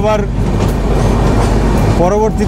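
Train rolling past close by on a rail journey toward Kharagpur station, a steady loud rumble of wheels and carriages with squealing tonal screeches at the start and end, people talking over it.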